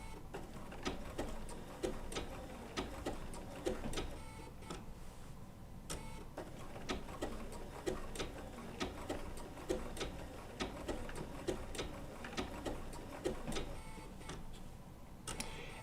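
Bernina B790 PRO sewing machine stitching around wool applique with an open toe foot, a steady fast mechanical ticking and clatter running throughout, with brief pauses as the fabric is pivoted.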